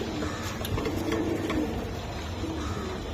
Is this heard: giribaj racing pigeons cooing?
yes